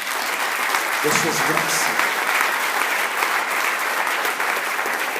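Congregation applauding in a church during a sermon, a steady dense wash of clapping throughout with a preacher's voice briefly speaking over it near the start.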